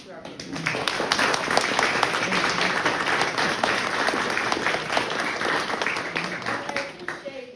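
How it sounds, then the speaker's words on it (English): A Veterans Day program audience applauds steadily throughout, dense clapping from a sizeable crowd with a few voices mixed in. "I would like for us to give a round of applause to"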